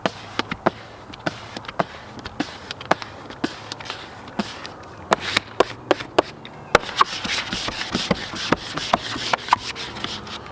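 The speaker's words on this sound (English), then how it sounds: "We're gonna squeegee down the graphic really well" A squeegee is pressed and dragged over a vinyl decal graphic being applied to an RV, making a steady run of sharp rubbing scrapes and taps that grow denser and rougher toward the end, with no talk.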